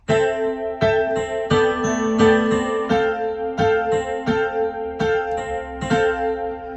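A solo piano plays the first cycle of the chords from a song, about ten evenly spaced chord and note strikes that ring and overlap, close and clear with no voices.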